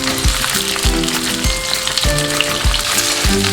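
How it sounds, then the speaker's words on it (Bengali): Eggplant pieces frying in hot oil for a spicy Bengali chorchori, a loud close sizzle with crackling, broken by repeated low thuds and clinks from the pan. "তেলটা গরম হচ্ছে, আমি বেগুনগুলো দিয়ে দিলাম। বেগুনটাকে একটু লাল লাল করে ভেজে নেব।"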